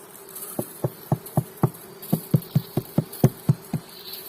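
Close honey bee buzzing inside a hive of Carniolan bees during rain pulses in a steady, fast rhythm, a dozen or so short droning bursts with no talking.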